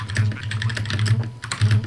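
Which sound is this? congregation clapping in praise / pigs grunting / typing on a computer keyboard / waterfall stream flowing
typing on a computer keyboard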